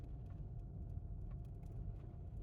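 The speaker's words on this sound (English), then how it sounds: "So as soon as these cars get by," Cars roll past on a very rough road near White Sands National Park, New Mexico, giving a steady low engine and tyre rumble that stays close and even for the whole stretch, with no talk over it.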